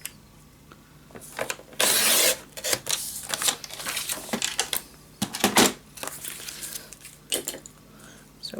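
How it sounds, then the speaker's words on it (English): Paper pieces are trimmed smaller for a handmade mini album, heard as close, intermittent rasping cutting strokes and scraping bursts with quiet pauses between them, with no talking. "Okay, cut this one down."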